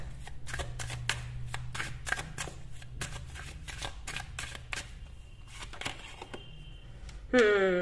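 A deck of tarot cards is shuffled briskly, giving a rapid run of crisp flicks and riffles close by; near the end a brief different sound cuts in.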